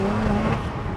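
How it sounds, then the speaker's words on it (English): Exhaust note of a BMW 1M Coupe fitted with a Miltech exhaust while driving, a steady, loud low drone with no break across one brief second. "The Miltech exhaust, just have a listen."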